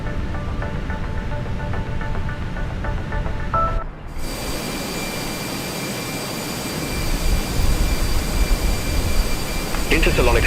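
Jet engine spooling up on a Fenix A320 in Flight Simulator 2020 at Dortmund, a steady rising turbine whine and broadband roar that shifts midway and swells louder toward the end, with radio voices talking over it.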